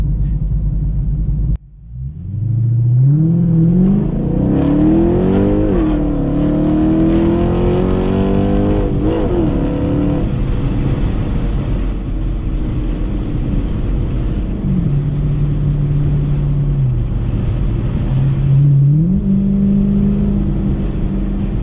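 A cammed 2006 Chrysler 300C SRT8 fires up and then accelerates hard through climbing revs, a loud, rumbling V8 exhaust droning continuously with shifts along the way.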